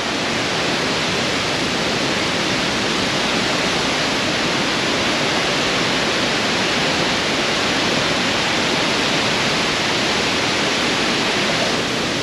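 The Agua Azul waterfall in Chiapas at rainy-season flow roars as a dense, unbroken wall of rushing water, very loud and close, with no pauses or voices.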